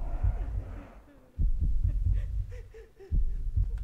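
Throbbing heartbeat effect in the video game Max Payne, loud low thuds arriving in strong pulses with brief quieter gaps, mixed with muffled game ambience.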